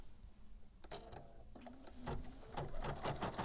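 A Bernina embroidery machine starts sewing, a quiet rhythmic mechanical stitching and whirring that builds up and grows steadier, close by with no talking.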